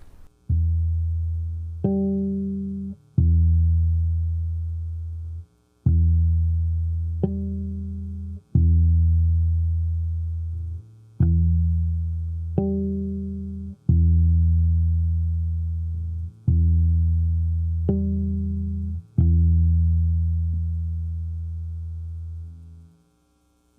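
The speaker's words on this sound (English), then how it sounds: "The harmonic I'd hit on this electric bass was the same note as what we were doing" A series of sustained electric bass harmonic tones, about nine of them, each ringing clearly then cut off before the next, with no voices.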